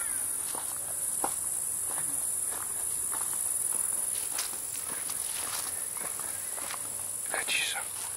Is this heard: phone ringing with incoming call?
no